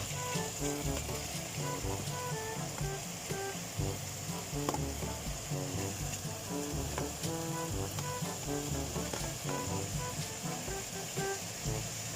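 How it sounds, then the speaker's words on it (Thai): Beef stir-fried in a hot pan for a spicy Thai basil dish with habanero chilies, sizzling loudly and steadily throughout with a dense frying hiss, close up and with no talking. "ใส่เนื้อลงไปผัดให้สุกครับผม"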